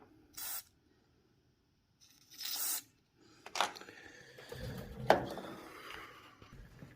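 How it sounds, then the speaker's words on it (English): Fluid squirting out of the impulse hole on a Stihl chainsaw during an MS170 build, heard as short, faint hissing spurts, then some scraping and handling noise close by. "Now it should squirt right up out of this hole right here."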